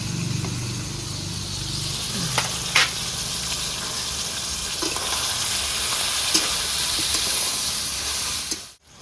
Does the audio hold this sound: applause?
no